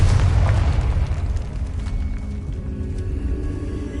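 A Confringo blasting curse explodes in the Hogwarts Legacy video game, a heavy low boom that rolls out and fades into a sustained rumble, loud and close with no talking.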